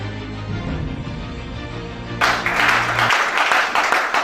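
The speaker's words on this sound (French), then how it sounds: "Acclamez ça." A church congregation breaks into applause during a sermon, a burst of many hands clapping loudly that sweeps in after sustained low tones fade.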